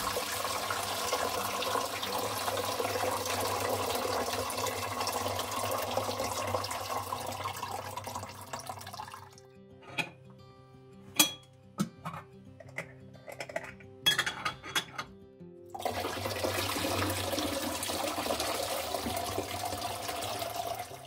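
Water pours into a pot with a steady splashing stream, then breaks off into a run of clinks and knocks before a second steady pour resumes; the sound is close and has no speech.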